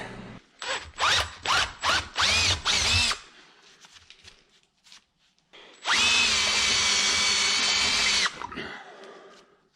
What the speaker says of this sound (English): We're drilling it.